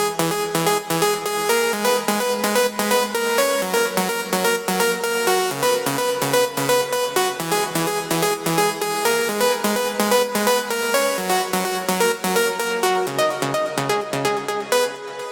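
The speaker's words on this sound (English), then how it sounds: "It's 2 sawtooth, 1 octave higher than the other one." Bright, buzzy synth lead of two sawtooth oscillators an octave apart plays a fast, plucky run of rapid repeated notes in a steady pulse, loud and alone with no other instruments.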